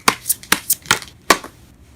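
Tarot cards are shuffled close by in a few quick riffling bursts, five or six sharp papery snaps within two seconds and nothing else heard.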